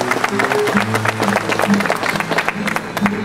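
Audience applause at a cantoria tribute performance in Milagres, steady dense clapping from a crowd throughout, with sung or spoken voices and a held tone mixed in beneath.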